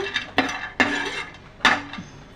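Chopped cashews and almonds are stirred while dry-roasting in a small pan for pumpkin halwa, with a few sharp metallic clinks and scrapes of a spoon against the pan at uneven intervals.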